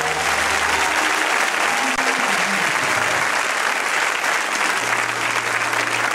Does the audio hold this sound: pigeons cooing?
no